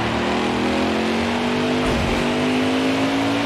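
NASCAR race car engines in NASCAR Heat 5 at Martinsville, a loud sustained engine drone with one car's pitch dipping briefly as it shifts or lifts, near and continuous throughout.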